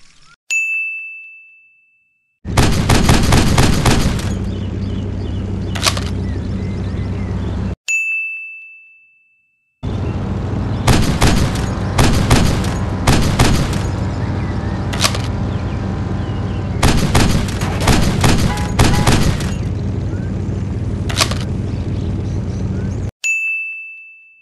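A small gun in the video game Dude Theft Wars fires long, loud rapid-fire strings of shots, broken by brief pauses in which a ringing ding-like tone sounds on its own.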